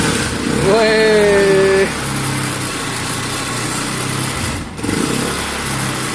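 Cold Happy Motorcycle 200cc 2018 three-wheeler with a carburettor fault struggles to start: a strained whining crank for about a second, then a low, uneven engine rumble, with people talking over it.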